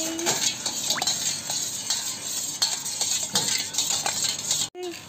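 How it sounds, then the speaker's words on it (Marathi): A spoon stirs sugar into homemade lemon sherbet in a glass, clinking steadily against the sides in a continuous busy rhythm, close and fairly loud, with a brief pause near the end. "पर्णवी झाली का मिक्स साखर?"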